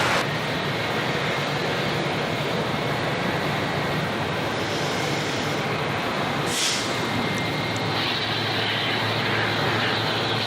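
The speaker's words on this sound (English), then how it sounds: "Looks like we've got a King Air on final" A Beechcraft King Air on final approach near Gold Coast Airport gives a steady, moderately loud turboprop drone at a distance, with a brief hiss partway through.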